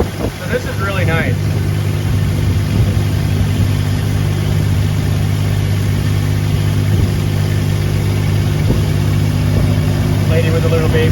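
A longtail boat engine on a rural Thai canal drones steadily and loud throughout, a continuous mid-pitched motor hum with brief voices heard over it at the start and end.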